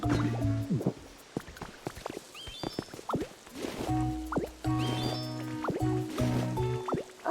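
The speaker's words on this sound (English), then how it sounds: "I need to water the garden." Water sloshes and drips in the Pokopia video game as the garden is watered, with repeated splashy pours, droplet plinks and bright chime-like tones in a busy stretch of game sound, no talking.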